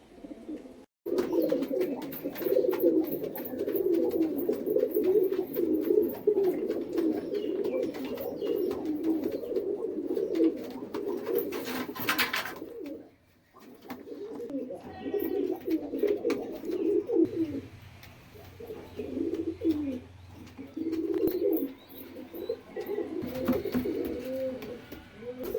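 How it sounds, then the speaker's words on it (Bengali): High-flying Madras pigeons cooing in steady, overlapping throaty rolls, close by and continuous, with a short pause midway and softer coos afterward, no talking. "এই যে এই পায়রা জোড়াটা দেখুন"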